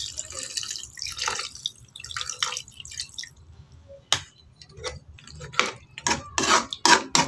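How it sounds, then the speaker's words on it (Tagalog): A cup of water goes into a cooking pot of chicken afritada, splashing and dripping in uneven bursts with metallic clinks of utensils against the pot, close and fairly quiet. "Lagay natin ng 1 cup water."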